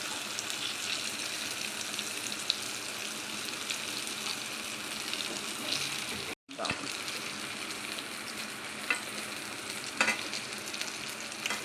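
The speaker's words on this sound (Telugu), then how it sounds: "ఇలా 5 మినిట్స్ పాటు మనం ఫ్రై చేసుకోవాలండి ఒక పక్క. ఇప్పుడు ఇంకొక పక్క మెల్లగా తిప్పేస్తాం" Raw banana slices sizzle steadily in hot oil in a pan, a continuous close crackling hiss broken by a brief cut and a few louder pops as pieces are turned.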